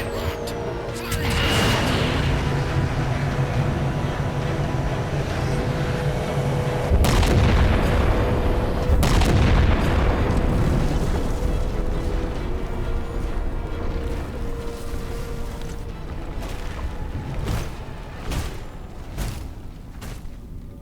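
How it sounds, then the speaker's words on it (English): Heavy weapon fire in Halo 4 against a target, a deep booming blast around seven seconds in that swells into a long rumbling roar, with a second surge after it and continuous loud game noise throughout. "Target locked. Firing."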